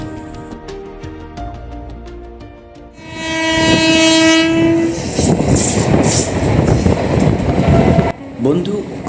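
The Coromandel Express, an Indian Railways train, passes close by on an adjacent track: a long horn blast with steady tones gives way to loud rumbling and rhythmic clatter of coaches, with faint voices in the background.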